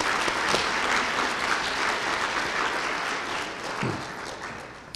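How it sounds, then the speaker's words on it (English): An audience at a Woodward Public Schools Teacher of the Year ceremony claps for the honoree's family, a full, steady wash of applause that slowly tapers off toward the end. "Let's give them another round of applause."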